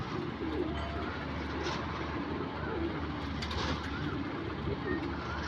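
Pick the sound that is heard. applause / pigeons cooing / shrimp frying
pigeons cooing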